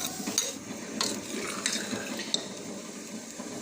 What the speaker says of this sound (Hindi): व्यूअर्स इसको तेज़ आंच पे ही हम इसको भून रहे हैं। घी शामिल कर दिया था इसमें।